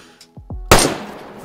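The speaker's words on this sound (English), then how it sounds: "he's shooting at me" A single sharp gunshot from the video game DayZ cracks loud and close, then its echo decays over about a second. Brief, faint tones come just before it.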